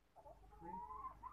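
A young Bangkok rooster clucking on a small farm where catfish are also raised, giving a short, soft, close series of clucks over faint background noise.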